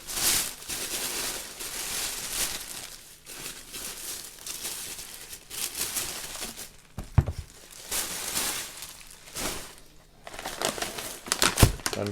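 Paper wrapping rustles and crinkles around a pair of new Fear of God x Adidas Basketball 1 shoes as they come out of the box, with irregular close handling bursts and a couple of sharper crackles.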